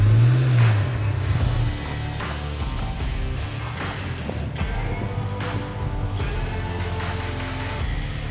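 A 2023 Chevy Colorado Z71 pickup off-roading, its engine droning steadily close by with dull thumps and knocks from the truck working over rough ground, and no talk.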